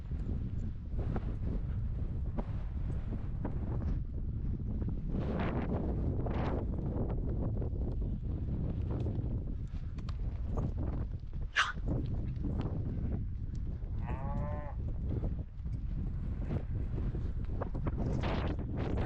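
Cold wind blowing steadily across an outdoor cattle ranch, a continuous rumbling buffet on the microphone with faint scattered sounds beneath it and no talking.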